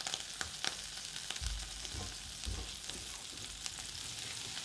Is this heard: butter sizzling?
yes